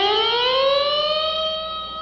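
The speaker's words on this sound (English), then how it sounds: "So you get a real low note to high note effect with the bar." A single sustained electric guitar note swept upward from low to high with the vibrato bar and a string bend, one smooth rising glide, clear and alone with a slight fade at the end.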